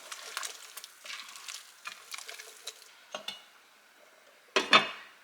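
A spoon stirs a sugared sauce mixture in a cooking pot, giving a string of soft scraping and clinking strokes near the mic, ending with a couple of sharper metallic knocks.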